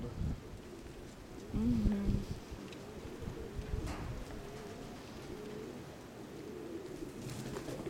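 A pigeon coos softly once amid faint outdoor background noise on a very windy day, with a person's quiet talking nearby.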